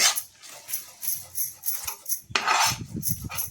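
A utensil scrapes and clinks against a pan while jaggery and cocoa powder are stirred together, with irregular metallic taps that thicken into a busier, louder run of scraping near the end.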